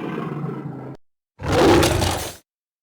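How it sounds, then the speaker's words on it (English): Two deep, rough bear growls used as a sound effect for an attack scene, each lasting about a second, loud and close, separated by a short silence. "we've got some more growls"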